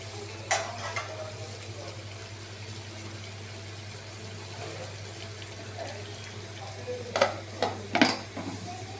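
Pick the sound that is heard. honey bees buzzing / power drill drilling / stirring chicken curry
stirring chicken curry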